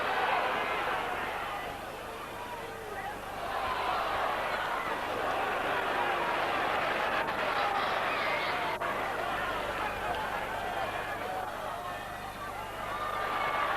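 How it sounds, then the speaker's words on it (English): Leeds rugby league crowd at a Regal Trophy semi-final against Salford, a broad distant roar of massed voices singing and chanting, swelling and dipping steadily under a poor-quality broadcast recording. "the crowd now trying to roar their favourite song"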